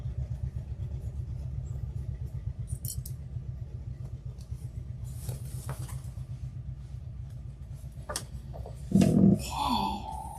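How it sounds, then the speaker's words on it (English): An old tractor engine runs outside, a steady low chugging rumble throughout. Near the end comes a brief louder clatter, and faint knocks sit above the engine. "My nephew is driving one of the old tractors,"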